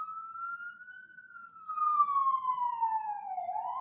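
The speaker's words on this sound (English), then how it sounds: "there is a siren outside my apartment" A police-style siren wails outside a Brooklyn, New York apartment, a single wavering tone that rises and falls before dipping and climbing again. It is moderately loud, heard from the street with no talking over it.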